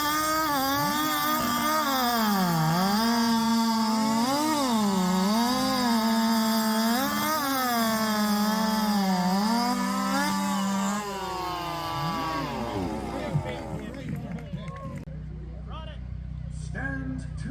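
Several chainsaws, including Husqvarna, Stihl and Jonsered saws, roar at full throttle while cutting timber at a 2023 chainsaw race in Jackson, Alabama, a loud sustained howl with shifting pitch that drops off near the end.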